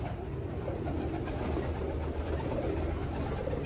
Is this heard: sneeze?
no